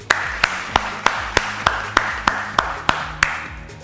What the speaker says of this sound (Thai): ขอทุกคนปรบมือให้กับผมและทีมงานทุกๆคนด้วยครับ